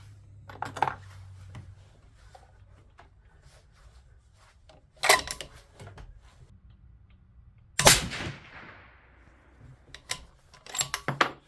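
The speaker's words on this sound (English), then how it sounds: "Had another hang fire there, if you guys could tell." A 300 Norma Magnum rifle with 208-grain ELD-M loads fires with hang fires: sharp, loud reports stand out near 5 and 8 seconds, with a ringing tail after the second, among smaller clicks and handling knocks.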